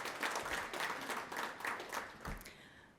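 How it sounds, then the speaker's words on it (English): A seminar audience at an arena gives itself a round of applause, the clapping steady and moderately distant before tapering off at the end, with no voices over it. "So just give yourselves a round of applause"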